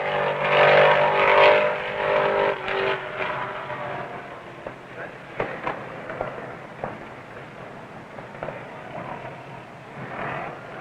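Richard Petty's electric blue No. 43 Ford NASCAR stock car races through a turn and down the straight toward the checkered flag, a loud sustained engine roar that swells early and then settles into a steady, slightly fading drone with scattered sharp pops.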